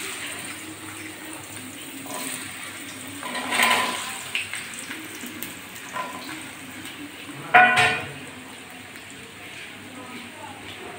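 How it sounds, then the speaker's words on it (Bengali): Small diced potatoes fry in hot oil in a kadai, giving a soft, steady sizzle with a couple of louder bursts as they are tossed. A person talks over the frying. "কড়াতে বসিয়ে দিয়ে তেল গরম হয়ে গেছে, আমি আলুগুলো ভেজে নিচ্ছি।"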